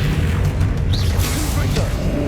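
A Bombarda exploding spell cast in the Hogwarts Legacy video game produces loud, booming blasts with whooshing sweeps over a steady low rumble.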